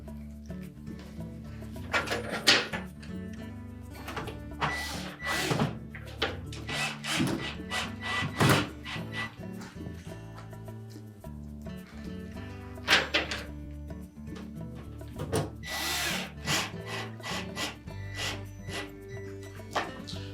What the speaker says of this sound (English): Check to make sure that it stayed properly in position, and then we can go ahead and install the rest of the screws.